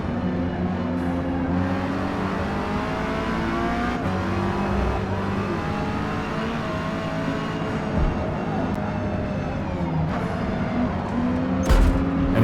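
Race car engines roar steadily throughout in online multiplayer Forza Motorsport (2023), Mazda MX-5 Rocket Bunny cars, with revving shifts and a brief sharp burst near the end, no talk over it.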